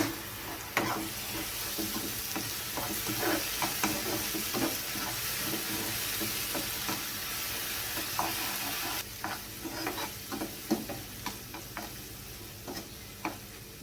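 Spice masala with ground tomato paste sautés in oil for a soybean and potato curry, a soft continuous sizzle broken by frequent spoon scrapes and taps against the pan, close and quiet, no voices.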